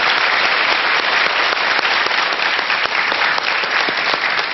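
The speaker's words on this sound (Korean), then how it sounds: "여러분 박수로 좀 환영을 해주십시오" A studio audience at a televised lecture show welcomes a guest with loud, dense, continuous applause that fills the whole clip at steady strength.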